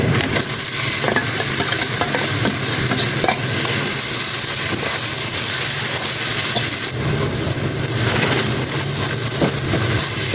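Loitta fish tossed into hot oil for fish chops and stirred, producing a loud, dense continuous sizzle with rough stirring scrapes, close up and with no voices.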